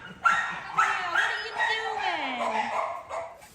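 A dog at feeding time makes close, loud yips and a drawn-out whining whimper that rises and falls over a few seconds in a home with several dogs.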